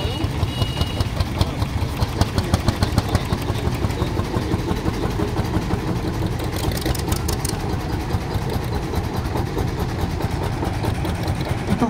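A small tractor, probably a Kramer, idling and running at a vintage tractor show in Wilkowice, a steady rapid putter close by, with faint crowd background.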